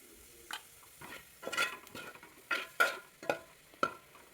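Chopped tomatoes being sautéed in a pan for Kerala-style egg curry: a quiet, intermittent series of spatula scrapes and clinks against the pan, about eight strokes, over a faint sizzle with no voices.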